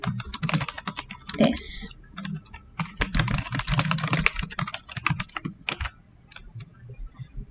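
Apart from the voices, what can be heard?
typing on a computer keyboard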